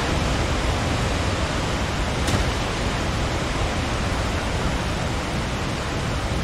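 A waterfall in the video game Resident Evil 4 rushes as a dense, steady roar of broadband noise, loud and unbroken throughout, with no voices.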